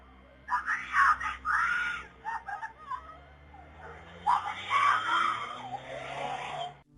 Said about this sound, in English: then we hear the screams